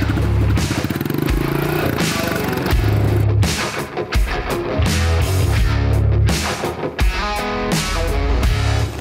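A motocross motorcycle pulls away as the clutch is released, its engine revving hard in uneven bursts up close, with sharp mechanical clatter between the surges.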